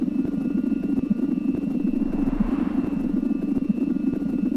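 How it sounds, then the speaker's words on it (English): A working helicopter built by the player in the SimplePlanes 2 flight game, its rotor and engine a steady, loud, continuous drone throughout with no talk. "I'm kind of excited I made a working helicopter."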